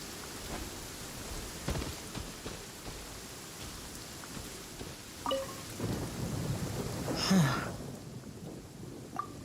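Steady rain hisses in a video game storm while low thunder rumbles beneath it, swelling into a brief louder crack near the end, with no voices.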